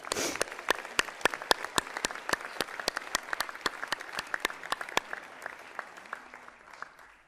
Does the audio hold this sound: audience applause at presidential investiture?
yes